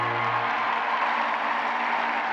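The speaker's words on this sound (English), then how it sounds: "Crowd at Madison Square Garden, rooting for all the dogs equally." A big crowd at Madison Square Garden applauds and cheers at a dog show, a dense, steady wash of clapping that fills the whole stretch without a break.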